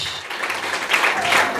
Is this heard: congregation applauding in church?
yes